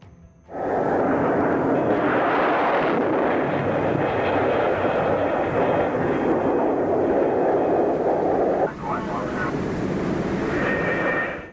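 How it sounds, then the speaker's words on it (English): A McDonnell Phantom jet is launched by catapult off an aircraft carrier with a loud, sustained jet roar that starts abruptly, carries on strongly with a brief dip near the end, and keeps going. "the Phantom is hurled down the catapult run and over the bow of the carrier"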